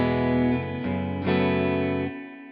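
Guitar played through the Brit Reverb amp simulator in Logic Pro, sustained chords ringing with light reverb and slight grit, changing a few times before fading out alone.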